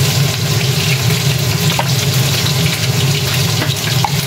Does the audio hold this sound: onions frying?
yes